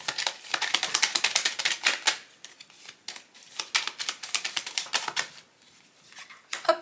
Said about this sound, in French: on va prendre 3 cartes avec un jeu Lenormand pour terminer